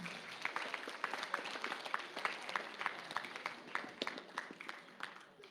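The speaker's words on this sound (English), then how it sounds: "So those 3 seniors, let's give them a good round of applause." A modest audience gives steady, evenly paced applause for three senior soccer players at a school fall sports awards event, individual claps clearly audible and the sound somewhat distant and soft.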